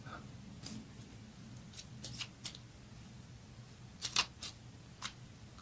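Tarot cards are handled, shuffled and drawn, giving faint, sparse snaps and papery flicks against a quiet room.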